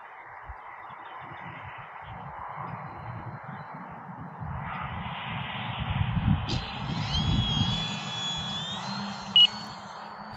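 FMS Super Cub 1300 RC model plane flying in gusty wind with landing flaps out, a steady whirring electric motor drone that swells toward the middle, plus a brief high beep near the end.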